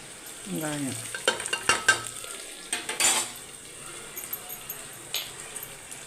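Onions stirred and frying in a pan with a little mint for prawn biryani, giving a steady close sizzle broken by scraping spoon-and-pan clatter, with a brief hum of voice near the start.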